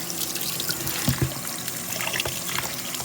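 Cool water poured over neck bones for cleaning trickles and splashes steadily, close by, with a couple of brief louder splashes near the middle.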